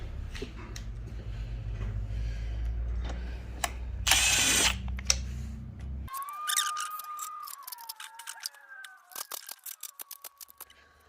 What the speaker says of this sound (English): I'm gonna get this valve cover torqued back down